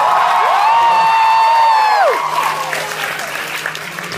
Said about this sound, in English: It's so shitty my fans cheer at the cancellation.